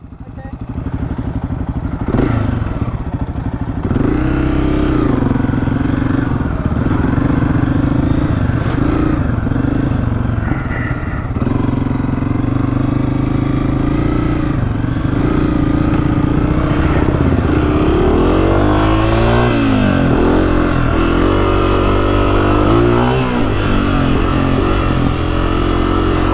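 A 2024 Honda CRF250F dirt bike roars loud and close through a hot desert ride, its engine droning and revving continuously as the rider shifts and accelerates.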